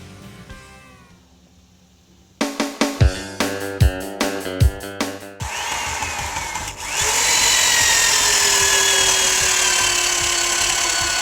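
A power drill bores holes through hardened cabin logs at their butted corners, sounding in a string of sharp, close bursts before a steady, loud high-pitched whine of the bit cutting wood.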